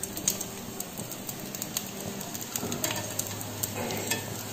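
Uzhunnu vada made with added rice sizzles in about a spoonful of oil just after flipping, a steady close crackle broken by small spoon scrapes and clicks, with no one speaking.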